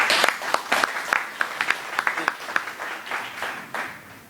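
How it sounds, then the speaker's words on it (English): Scattered applause from an audience at a Somali community forum, individual claps clearly separate and fading out toward the end, with a voice briefly audible among them. "can you give yourself a round of applause for being here today?"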